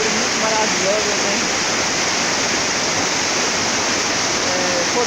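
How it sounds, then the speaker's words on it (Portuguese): A steady, loud roar of the Cachoeira do Orfeiro waterfall in Bahia, water pouring down a rocky cliff face, fills the whole stretch, with faint voices barely showing through. "É uma cachoeira muito maravilhosa"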